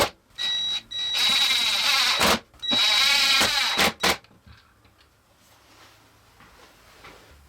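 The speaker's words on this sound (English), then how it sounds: "I'm going to use some number 8 screws, and we're going to screw them down to our plywood assembly" A power drill drives number 8 screws into a plywood assembly, two sustained whirring bursts of a few seconds each followed by short clicks, close and loud, then a quiet tail.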